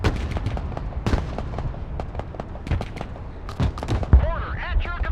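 Mortar and artillery fire in the Broken Arrow war video game: a string of sharp booming shots and blasts, some louder and closer than others, under a steady battle din with voices talking.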